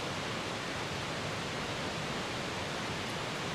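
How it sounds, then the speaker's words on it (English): Steady broadband rush of a river flowing close by a mountain campsite, constant and even throughout, with no voices. "Probably hear a river right now in the background"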